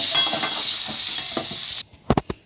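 Fried potatoes and soft pointed gourd (potol) stirred in a pan, a steady sizzle with scraping strokes that stops abruptly, followed by a few sharp knocks of the utensil.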